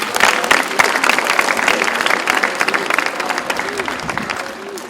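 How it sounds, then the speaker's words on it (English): Crowd at a basketball camp applauding a coach, with dense, loud clapping throughout and some voices in the mix. "Let's give a big round of applause for Ronnie Davis."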